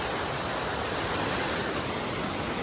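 A flooded village river after heavy rain rushes past in a continuous, loud, broadband roar with no other sounds.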